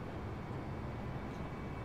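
Steady broadband drone of aircraft engines held at full throttle in a flight simulator game, a continuous even roar with no breaks, played alone without voices.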